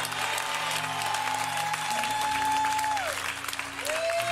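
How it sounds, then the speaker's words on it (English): A church service congregation claps hands in a steady wash of applause, with music tones and a sustained organ-like note running underneath. "I thought you'd clap your hands."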